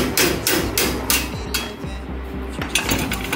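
Several loud, sharp metallic hammer blows strike a brake caliper mounting plate on a Datsun 240Z to knock it loose, ringing impacts spaced irregularly with brief pauses between them.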